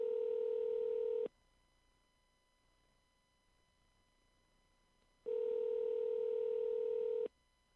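A phone call rings out while waiting for an answer: two long steady electronic ringback tones about two seconds each, separated by several seconds of near silence, clear and moderately quiet.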